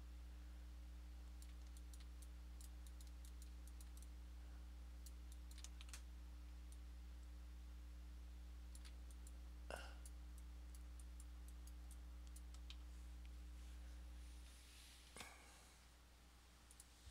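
Fingers typing a message on a computer keyboard, a steady patter of light key clicks running over a constant electrical hum, with a few louder isolated taps and a soft thump near the end.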